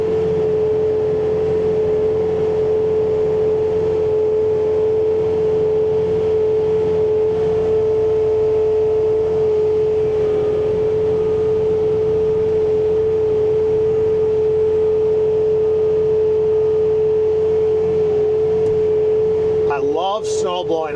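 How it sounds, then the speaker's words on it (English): A Bobcat T66 track loader with a snowblower attachment runs steadily at close range through a foot of snow, a loud constant mechanical drone with a strong steady hum, and a brief clatter near the end. "Snow blowing."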